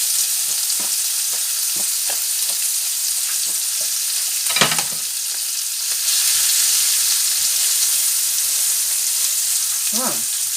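Ingredients searing in a pan for a goose egg omelette, a steady loud sizzle with repeated scraping stir strokes and a few clacks of utensil against the pan.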